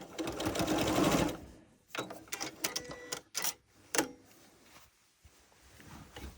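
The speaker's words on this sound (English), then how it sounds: "I'm going to turn this so that I can sew a diagonal line onto the corner of the quilt." A sewing machine stitches a diagonal line across the corner of a quilt's binding, starting with a loud continuous run and then breaking into short bursts and single stitches with pauses between them.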